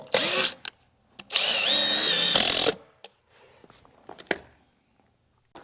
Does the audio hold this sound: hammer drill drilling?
yes